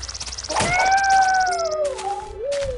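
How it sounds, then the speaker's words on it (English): A Minecraft cat meows in a long, rising-then-falling cry with a short second mew after it, loud and close, and a faint steady tone runs underneath. "There's a cat."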